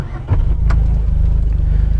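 A vehicle engine turns over and settles into a steady low idle, heard from inside a heavily insulated cab where it stays muffled and even, after a brief quiet moment at the start.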